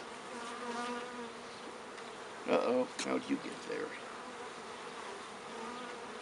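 Bees buzz steadily around a beekeeper working an open hive, a continuous droning hum throughout, with a brief flurry of louder handling noises midway and someone speaking briefly.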